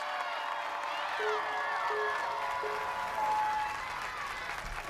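A crowd cheers and applauds for a ninja obstacle course competitor at a qualifier near Las Vegas, including family and fellow Utah ninjas. The clapping and whoops are steady and moderately distant, with scattered shouts.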